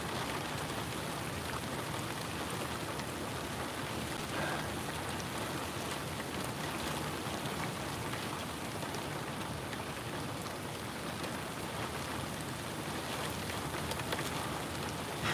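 Steady rain drumming on a parked truck near the SpaceX Starbase launch site at Boca Chica, Texas, a constant even hiss with no talk over it.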